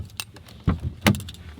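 Car keys jingle in a few brief metallic clinks, with two louder shakes near the end, close by and without speech.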